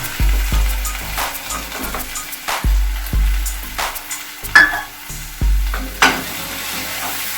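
Chili, sambar and turmeric powders are stirred into frying garlic for poondu kara kuzhambu: a loud, close sizzle with several heavy clanks and scrapes of a ladle against the pan at irregular intervals.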